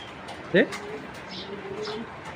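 Racing pigeons at a pigeon farm give a short, near coo around the half-second mark, followed by softer cooing and chirps over a steady background.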